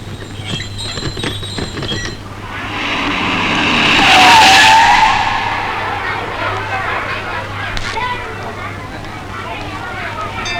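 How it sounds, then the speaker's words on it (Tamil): A car pulls away with a brief tire squeal, engine noise swelling to a peak and then fading into the distance, with steady background hum and voices talking. "போயிட்டாடா அந்த வண்டி."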